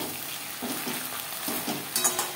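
Okra coated in salt and turmeric fries lightly in a pan, a soft, steady sizzle with occasional scrapes of stirring, close by and without talk.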